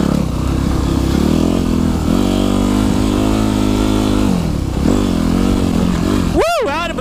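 Dirt bike engine downshifting on a forest trail, a loud buzzing motor that drops and surges in pitch several times, with a brief sharp sweep near the end.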